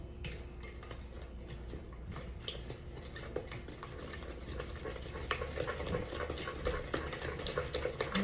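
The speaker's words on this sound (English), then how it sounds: "Whisking in." Spoon stirring beaten eggs into a sugar mixture for pecan pie mini tarts, a continuous soft scraping and light clinking against the bowl, close and fairly quiet, building slightly toward the end.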